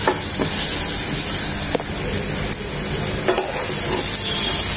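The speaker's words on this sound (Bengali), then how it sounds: "বারবার নেড়ে চেড়ে পেঁয়াজ কুচিগুলোকে এভাবে ভেজে নিতে হবে, আরো নরম হবে।" Chopped onions fry in a pan while a utensil stirs them repeatedly, giving a loud, dense sizzle with periodic scraping strokes, close up and without speech.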